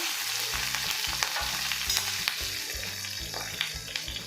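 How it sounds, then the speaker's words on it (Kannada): Cumin, red chillies including a Byadagi chilli, crushed garlic and curry leaves fry in oil for a vegetable sambar tempering, giving a moderate hiss and crackle with light stirring scrapes. Steady low tones also play through it, and nobody speaks. "ಕರಿ ಲೀವ್ಸು ಇವನ್ನೆಲ್ಲ ಹಾಕ್ಕೊಂಡು ಚೆನ್ನಾಗಿ ಫ್ರೈ ಮಾಡ್ಕೋಬೇಕು"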